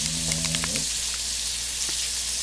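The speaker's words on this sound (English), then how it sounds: "we're just waiting for this sausage to finish cooking up" A sausage cooking in a frying pan gives a steady, soft sizzle throughout, with a brief tonal hum near the start and no talking.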